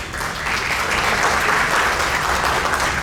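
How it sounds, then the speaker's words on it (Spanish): A crowd at a national library gathering breaks into loud, sustained applause, swelling quickly after a brief start and staying thick and steady throughout. "Fuerte los aplausos."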